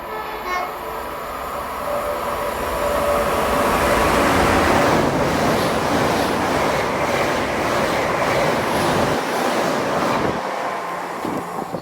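A passenger train on a London Paddington to Bristol Temple Meads service runs through Keynsham station, a loud, steady roar of wheels and rails that swells in the middle and fades slightly toward the end, with no voices.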